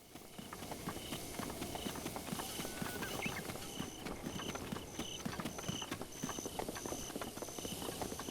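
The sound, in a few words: horse hooves from a video game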